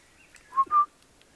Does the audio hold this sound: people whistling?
yes